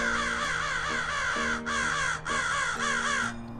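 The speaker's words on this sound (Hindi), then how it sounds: "कौवा बहुत तेज काव काव करके चिल्लाने लगता है।" Harsh, repeated caws from crows ring out loudly in quick succession, several birds calling over one another.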